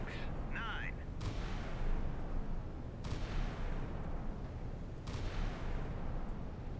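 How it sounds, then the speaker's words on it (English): Naval guns fire in the Sea Power naval combat game, broadband booms landing roughly every two seconds over a constant loud battle rumble, with a brief whistling tone near the start. "Guns going at it."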